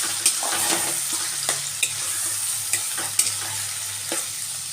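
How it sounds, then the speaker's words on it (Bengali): Cabbage leaves are dropped into a pan of fried prawns, followed by a steady sizzle and the scrape of a spatula stirring at intervals, close and fairly quiet, with no talking. "আমার চিংড়ি মাছটা বেশ ভাজা হয়ে গেছে এখন আমি কপির পাতাটা এর মধ্যে দিয়ে দিলাম"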